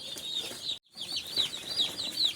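Broiler chicks in a poultry shed keep up a continuous chorus of high, thin cheeping, steady and fairly close, with a brief silent gap near the start and no talking.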